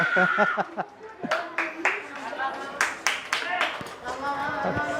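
Scattered hand claps ring out among chatter and light chuckles in a classroom teaching practice, sparse rather than a full burst of applause.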